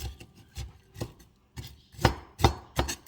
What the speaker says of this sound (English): Just gonna chop it up. No rhyme or reason. As small or as big as you want it.